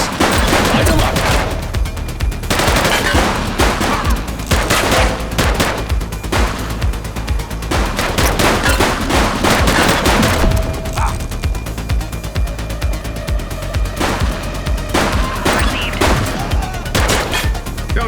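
Gunfire erupts in a police shootout in The Precinct video game, with dense overlapping bursts and rapid clattering shots running loud and continuous under the game's soundscape.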